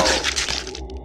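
Horror audiobook sound effect of flesh tearing and bones breaking: a loud burst of wet crunching and sharp cracks that quickly thins into a few brittle snaps and fades.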